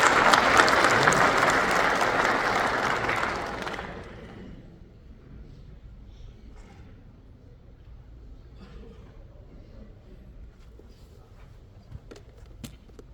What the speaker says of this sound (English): let's give a round of applause for our senior class